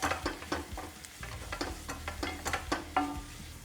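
Green chillies fry in a pan for paneer burji. A spatula scrapes and stirs them in quick, irregular strokes over a faint sizzle, close and fairly quiet.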